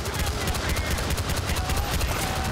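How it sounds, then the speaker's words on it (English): Dense gunfire from Battlefield: Bad Company 2 Vietnam, including sniper shots, rattles as rapid overlapping bursts at moderate volume throughout. "Oh, I'm being sniped at."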